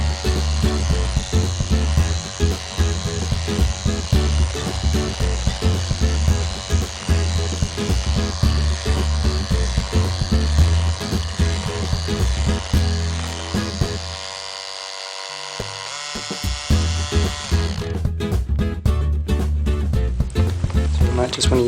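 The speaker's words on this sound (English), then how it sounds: "And then we'll just keep beating it until it becomes light and fluffy and sort of more pale in color." An electric mixer beats banana cake batter, a loud steady whirring drone that runs for most of the clip, briefly dips, then returns with clattering bursts near the end.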